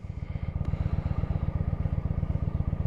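Kawasaki Vulcan 900 Classic motorcycle engine thumping steadily while riding toward the freeway, a loud, even low-pitched pulse continuing throughout without talk.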